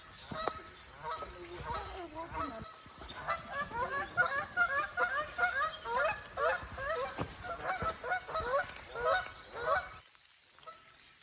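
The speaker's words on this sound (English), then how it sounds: "Oh, there's honkers." Geese honk repeatedly along a lake trail in Frontenac Provincial Park, a busy flock calling in quick overlapping bursts that grow louder and then fade into quiet at the end.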